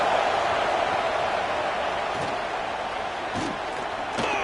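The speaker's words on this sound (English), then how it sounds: "Listen to this crowd just shaking the girders of this place, trying to help their defense." A roaring crowd fills a college football stadium during a Penn State versus UCLA game, a dense continuous wash of cheering and shouting with a few sharper bursts, heard from a distance.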